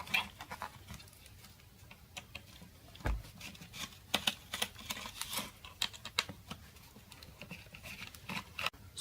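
Faint, scattered small clicks and taps from screws being removed from an electric board, irregular and close, in a quiet room with no talking.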